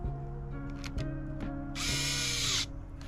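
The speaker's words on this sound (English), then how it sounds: "now we're going to put the little screws back in" A small electric screwdriver whirs in short steady bursts while driving tiny screws back into an HP laptop, each burst ending in a brief ratcheting click, close and clear with no voices.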